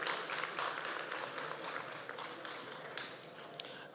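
An audience at a Kenya Institute of Development Studies graduation ceremony applauds graduates, a quiet, distant, even wash of many hands clapping that tapers slightly toward the end.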